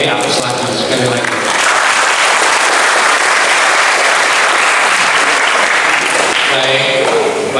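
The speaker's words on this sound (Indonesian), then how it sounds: "yuk kita beri aplaus lagi sekali lagi" An audience at a book discussion event in a regency hall gives sustained, loud applause of many hands clapping together, filling the whole stretch with a dense, even roar and a voice faintly audible underneath.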